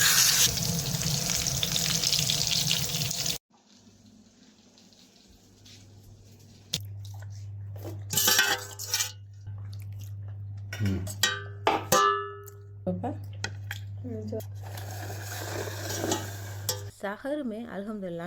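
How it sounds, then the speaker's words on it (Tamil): Fish and fries frying in hot oil at an early-morning home kitchen stove, a steady low hiss running through most of the stretch with scattered clinks, stirring and scraping sounds on top; a louder broadband burst opens the clip before it drops away. "ஃபிஷ் ஃப்ரை பண்ணிவிட்டு கொஞ்சம் இந்த ஃப்ரைஸை ஃப்ரை பண்ணிட்டேன்"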